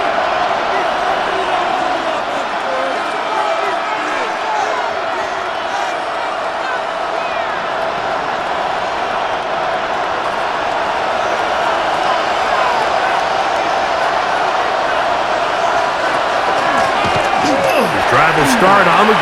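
Stadium crowd in Madden NFL 26, a Cardinals versus Seahawks simulation, a steady wash of roaring crowd noise that swells slightly toward the end, with thumps and babble mixed in.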